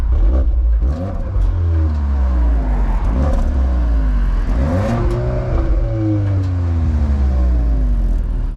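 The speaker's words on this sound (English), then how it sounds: "The exhaust sound from the outside is decent." A 2021 Cupra Formentor VZ2 revs and accelerates, recorded from outside the car. Its exhaust rises and falls through several loud, close engine sweeps with a deep rumble underneath.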